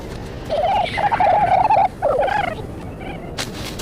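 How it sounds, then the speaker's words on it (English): A burrowing sphinx, a desert bird descended from galliform fowl, gives a loud turkey-like gobbling call in several rapid warbling bursts, pausing briefly before a final shorter burst, then falling quiet. "Now here we have a bird which burrows."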